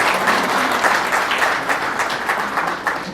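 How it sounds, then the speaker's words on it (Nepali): A crowd applauds continuously, a dense and fairly loud wash of many hands clapping with no pauses throughout. "उहाँलाई पनि ताली बजाएर हामी सबैले धन्यवाद दिन्छौँ"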